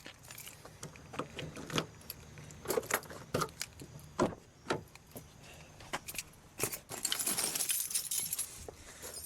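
A set of keys tossed onto the ground jangles and clinks in several bright, scattered bursts across the clip, with a longer metallic rattle near the end and faint background rumble.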